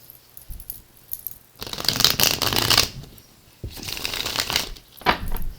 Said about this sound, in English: Got one more shuffle to go.